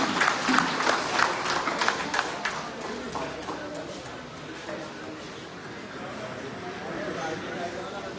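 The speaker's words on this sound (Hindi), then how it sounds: "तालियां बजाइए समीर साहब, आप आइए, तालियां बजाइए, इनका स्वागत कीजिए" Audience clapping welcoming Sameer Wankhede at an anti-drug event, a dense burst of applause that fades after a few seconds to a softer crowd murmur, with a voice speaking over it.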